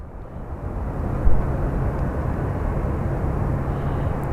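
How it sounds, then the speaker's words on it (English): A Boeing 757-300 airliner landing at Sky Harbor airport, heard as a loud, steady broadband jet roar that swells briefly, then holds, with no speech. "We have a 757-300 that just landed."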